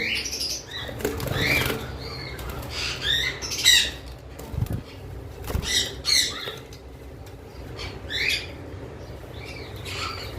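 A pair of forpus parrots, one American white and one blue, flutter and flap their wings in a cage, with repeated sharp squawks and chirps and scratchy rustling close by.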